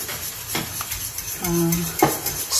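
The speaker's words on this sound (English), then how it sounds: "Then keep on stirring with a whisk to give you that smooth" A whisk stirs sauce in a pan for chicken katsu, giving soft repeated scraping and light metallic clinks over a low steady background, with a brief tonal squeak partway through.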